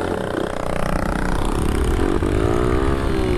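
A 50 cc Minitrail motorcycle engine revs steadily up in pitch as the rider pulls away, loud and close with continuous buzzing throughout.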